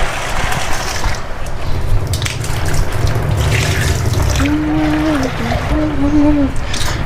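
Vegetables rinsed under a running kitchen tap, with steady water rushing and splashing close by while a person talks over it.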